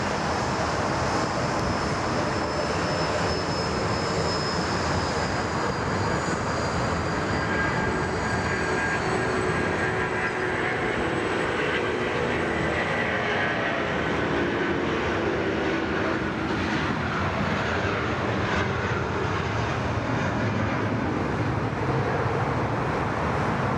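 An Airbus A330-200 with Rolls-Royce engines roars steadily at Sydney Airport, a broad sustained jet rumble with a whining high tone that shifts slowly, heard from a distance without talk.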